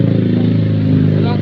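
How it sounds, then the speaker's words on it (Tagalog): A motorcycle drones steadily nearby on a road, its low harmonic engine note holding for a moment amid background chatter and street noise. "May motor ay."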